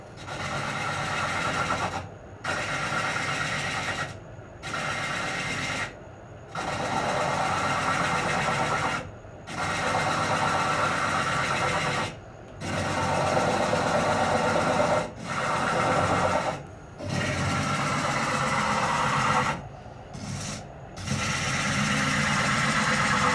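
A Japanese-style lathe spins while a cup is turned, a steady whirring motor drone that runs in long stretches and cuts out briefly several times, close by and alone.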